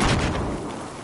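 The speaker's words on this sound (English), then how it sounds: "That's a grenade." A grenade goes off in Battlefield 4, a loud booming blast with a dense rumbling tail that fades over about a second, with no talk over it.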